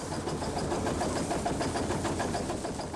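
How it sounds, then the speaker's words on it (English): Seed processor machinery running on a farm, a steady broadband mechanical rumble and whir with a faint rhythmic pulse, continuous and fairly close. "there was other machinery, such as this seed processor"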